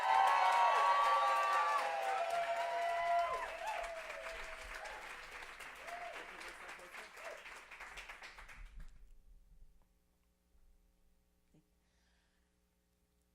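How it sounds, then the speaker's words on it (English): Live storytelling audience applauding for the next teller, a dense burst of clapping with a few whoops that gradually thins out and fades to near silence after about nine seconds. "let's give a huge round of applause for our next storyteller, Sunisa."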